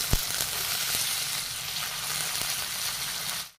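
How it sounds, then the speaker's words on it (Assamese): Chopped elephant apple sizzles in hot mustard oil spiced with garlic and turmeric, a close, steady frying crackle with a few sharp pops, ending abruptly. "ইয়াতে কাটি থোৱা ঔটেঙাখিনি দি লৈছো মই।"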